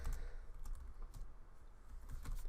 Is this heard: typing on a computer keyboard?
yes